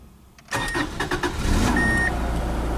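A 1995 Subaru Legacy engine cranks and starts just after a fuel pump replacement, then settles into a steady, close idle with a brief beep.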